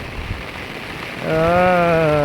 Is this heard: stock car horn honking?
no